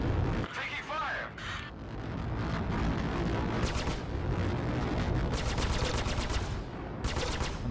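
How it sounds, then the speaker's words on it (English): Incoming gunfire in the space combat game Star Citizen crackles in rapid bursts, loud and sustained with repeated volleys, while a voice speaks over it. "Taking fire."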